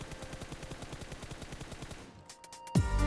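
Rapid automatic gunfire spray from a weapon in PUBG Mobile, a dense run of loud repeated shots for about two seconds, then a brief lull and a sharp louder burst near the end.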